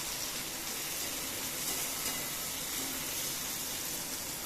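Cut eggplant and curry ingredients sauté in a pan with a steady, soft sizzling hiss that continues evenly throughout, with no other sounds.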